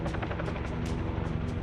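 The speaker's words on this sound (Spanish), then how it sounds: "Oímos que había un helicóptero acercándose más y más" A rescue helicopter over an active volcano crater thumps with loud, rapid, regular rotor pulses close by, mixed with dense engine roar, steady throughout the short moment.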